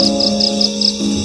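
Repeated insect chirping, a grasshopper calling in short bursts over a steady background hum, close and fairly loud, with no talking.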